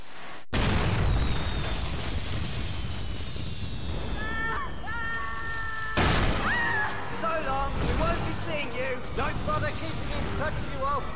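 Reducto spell blasts in the Harry Potter and the Order of the Phoenix PC game, loud booming bursts landing around 0.5, 6 and 9 seconds over a steady bed of game noise, with shimmering magical tones and a voice talking through it.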